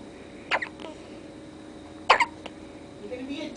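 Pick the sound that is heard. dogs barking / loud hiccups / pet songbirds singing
loud hiccups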